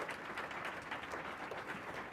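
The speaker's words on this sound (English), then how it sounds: "If we can just give her a round of applause" A room audience at a women's entrepreneurship podcast event gives a round of applause for a speaker, with soft, steady, dense clapping heard from some distance for about two seconds.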